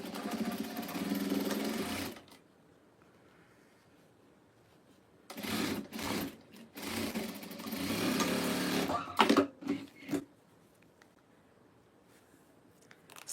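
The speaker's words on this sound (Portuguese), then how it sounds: "agora minha máquina não quer costurar" A sewing machine runs in several close, loud bursts of rapid mechanical whirring, each separated by stretches of near silence. Some bursts are long and steady, while later ones are short and choppy.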